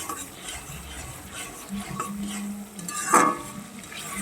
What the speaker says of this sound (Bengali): এবারে দিয়ে দেবো কিছুটা ধনে পাতা ধনে পাতা কুচি করে রেখেছি সেটা দিয়ে আবারও নেড়ে চেড়ে নেবো ভালো করে